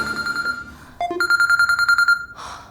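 A telephone rings with a warbling electronic tone pulsing in quick repeated bursts, clear and close, after a few short beeps, with no voices.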